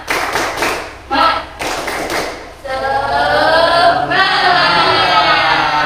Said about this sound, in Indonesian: Najwa bisa pimpin tepuk semangat Najwa.